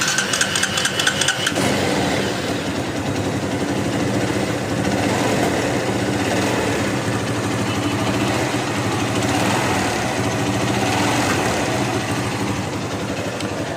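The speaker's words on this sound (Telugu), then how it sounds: "బండి స్టార్ట్ చేయగానే ఇంజిన్ నుంచి ఏంటంటే గులగుల సౌండ్ వస్తుంది." Motorcycle engine running steadily after starting, with a rattling timing chain tensioner noise under a continuous loud, close idle that does not let up.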